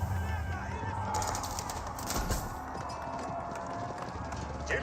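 Hoofbeats of a wounded horse unit moving in Age of Empires 4, a quick steady clip-clop at moderate level against a low game backdrop.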